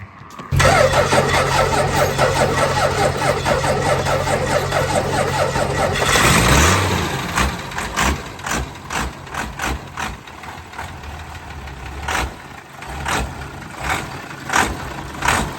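600hp Cummins diesel truck engine with an exhaust leak cranks and catches, runs with a rough rattling drone, then revs in uneven bursts with a puffing, ticking exhaust.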